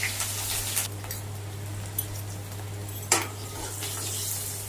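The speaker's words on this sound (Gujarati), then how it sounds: "નાખી લીલો લીમડો." Green chillies and curry leaves crackle in hot oil with mustard seeds and cumin for a tempering, a dense continuous sizzle with a few sharp spoon scrapes against the pan, close and loud with no voices.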